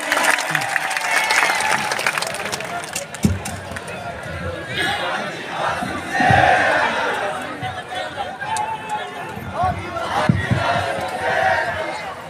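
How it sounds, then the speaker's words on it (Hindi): Crowd at a national tribal conference at Beneshwar applauds and cheers to welcome a speaker, with scattered claps, shouts and chatter rising and falling under voices. "एक बार जोरदार ताली स्वागत करें।"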